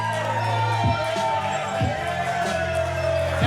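Crowd at a Best of the West wrestling show roaring in ovation for wrestler Prince Gabriel, a steady dense wash of cheering and shouts with a low tonal hum and a few thumps underneath.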